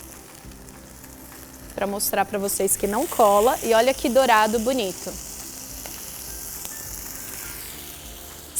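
Tilapia sizzles steadily in a frying pan without oil, a soft continuous crackle close by, while someone talks over it for a few seconds.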